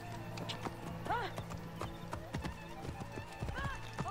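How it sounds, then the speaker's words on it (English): Horse hooves in the video game Assassin's Creed Origins, a steady quick clip-clop of a moving horse with a couple of whinnies, while someone talks over it. "Get off of the freaking horse, dude."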